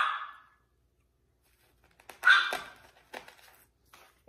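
A few sharp, high-pitched yaps from small dogs, scattered bursts separated by short silences, fairly close.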